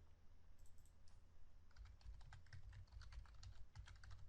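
Computer keyboard typing while code is edited and deleted in an Oracle PL/SQL session: quiet, rapid key clicks, sparse at first, then a dense steady run of keystrokes, close and alone.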